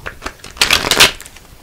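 A deck of tarot cards being shuffled at close range, with soft riffling bursts building to a louder flurry in the middle.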